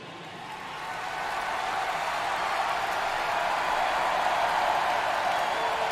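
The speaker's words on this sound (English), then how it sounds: "The crowd is amped up" A stadium crowd at a baseball game in MLB The Show 23, set in Seattle, swells into a steady, loud roar of cheering and applause that builds over the first second and holds without speech.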